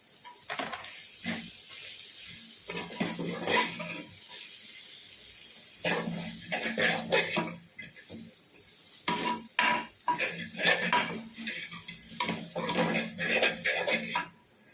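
Cut vegetables for fried rice crackle in a pan amid bursts of scraping and stirring that come and go in clusters, with quieter gaps between the strokes, close by and free of talk.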